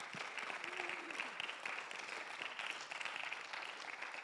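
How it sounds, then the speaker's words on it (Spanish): Church congregation applauding the Lord during a Spanish-English sermon, a steady dense wash of clapping held at an even level throughout with no break. "Give an applause to the Lord."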